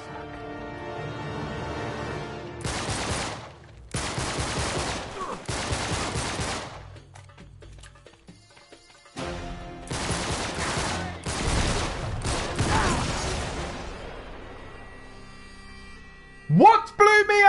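Rapid bursts of gunfire from the video game Uncharted come in several dense volleys separated by short pauses, loud and close, with a sharp impact near the end.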